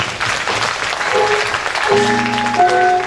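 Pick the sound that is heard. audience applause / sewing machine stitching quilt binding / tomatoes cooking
audience applause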